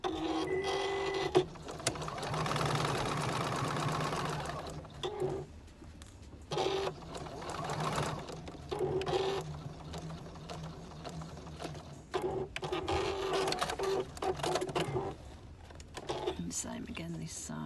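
A sewing machine stitches scrap fabric in the seam allowance in quick mechanical bursts with pauses between runs, while a person talks over and between the stitching.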